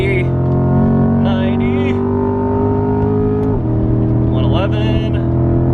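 A C8 Corvette pulls hard down a racetrack's main straight, its engine a loud, steady drone that drops in pitch once partway through as a gear change, while a voice talks over it inside the cabin.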